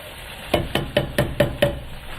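A 400 g can of diced tomatoes emptied into a pot of chicken Madras curry, heard as six evenly spaced, sharp metallic knocks in quick rhythm, close and moderately loud, with no voices.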